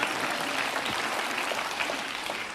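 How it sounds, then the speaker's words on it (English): An audience at a motivational talk gives a steady wash of applause, moderately quiet and even throughout, with no voices over it. "You can applaud if you feel so inclined."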